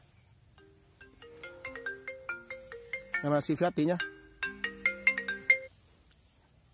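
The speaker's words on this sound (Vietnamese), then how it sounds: "có điện thoại" Mobile phone ringtone in a lychee orchard, a repeating electronic melody of short tonal notes that plays loudly for several seconds, with someone speaking briefly over it midway.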